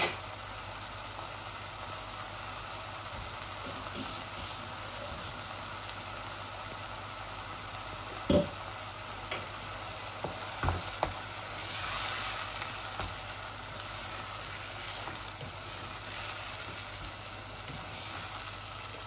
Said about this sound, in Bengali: একটা পেঁয়াজ দিয়ে আমি চিকেনটাকে একটু ম্যারিনেট করছি, এইভাবে ভুনছি